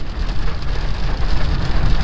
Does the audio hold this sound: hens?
no